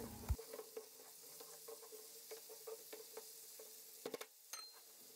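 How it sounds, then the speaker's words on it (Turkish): Fava beans sautéing with salt and sugar in a pan, heard as a faint, quiet sizzle broken by repeated light scraping stirs and a few sharper utensil clicks toward the end, without any talking. "ve kavurma işlemine devam edelim"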